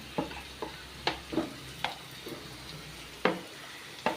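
A spoon taps and scrapes rhythmically in a pan as spices such as pepper powder and garam masala are stirred into a jackfruit seed roast. A soft sizzle of frying runs underneath, with clear strokes about every half second.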